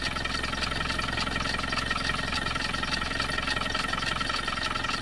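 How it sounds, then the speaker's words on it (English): Rough-running Land Rover 300 TDI diesel engine, seemingly not firing on all four cylinders, idles with a steady, uneven clattering chug at close range and no talking. "I've seen smoother 300 TDIs, I'll be honest. I suspect that's not firing on all four."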